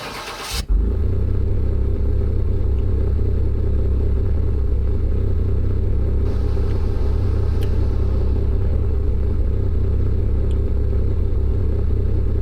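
A car engine in Car Mechanic Simulator driving on the test path, a steady low rumble and drone that holds evenly after a brief start, loud and close, with no talking.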